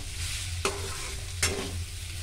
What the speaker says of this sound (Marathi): सगळं नीट मिक्स करून झाले